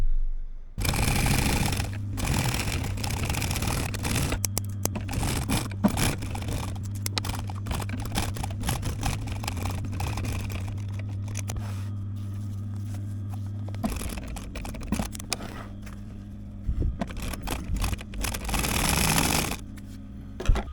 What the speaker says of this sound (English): The next job is to sew the piece on the back end.